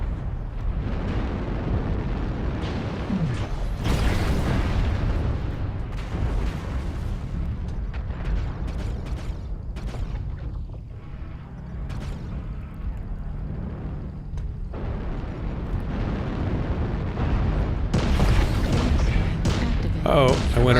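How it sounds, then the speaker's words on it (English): Deep booming blasts from an airstrike rumble through a mech combat game, loud and continuous with several heavier bursts, while voices talk over the barrage. "Airstrike online."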